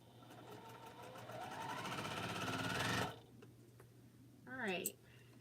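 A quilting sewing machine stitches fabric in a steady, rising mechanical whir for about three seconds, then stops abruptly, followed by a brief squeaky rising sound near the end.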